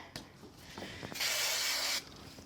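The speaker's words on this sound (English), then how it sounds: "I'm going to give a quick little spray." A few light handling clicks, then one short hissing burst from a spray can lasting under a second, followed by quiet.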